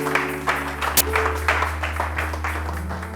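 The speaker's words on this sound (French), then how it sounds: "Acclame un peu Jésus, mon ami." A church congregation claps and cheers for Jesus during a sermon, with steady, moderately loud clapping and crowd noise over a low organ-like hum and one sharp accent near the middle.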